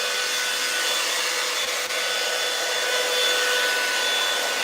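A T3 blow dryer runs continuously at close range, giving a loud, steady airy roar with a faint whine and no letup.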